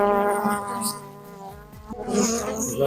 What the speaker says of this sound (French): Vous avez l'abeille qui a vraiment décidé de discuter dans le micro